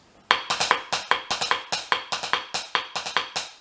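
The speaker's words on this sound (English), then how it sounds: "That's the rock beat, and it sounds like this." Crisp, dry drum hits play a steady driving rock beat with a faint ringing tone, close and clear, ending in a short decay.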